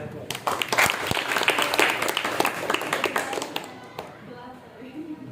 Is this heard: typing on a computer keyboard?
no